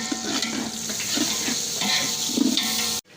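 Onions sizzle steadily in hot oil while browning for carrot pulao, with occasional stirring scrapes of a spoon against the pan, close up, ending abruptly.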